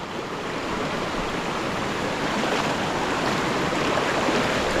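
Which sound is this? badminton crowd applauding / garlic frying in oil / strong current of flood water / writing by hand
strong current of flood water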